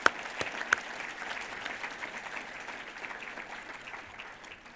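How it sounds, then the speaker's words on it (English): Steady applause from a crowd at a corporate ranking event fills the whole stretch, dense clapping at a moderate, even level with a couple of sharper claps at the start. "please give them a round of applause"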